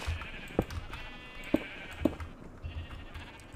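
Three short sheep bleats in the Minecraft video game, sounding at a steady pace, fairly close and clear, over a quiet steady background hum.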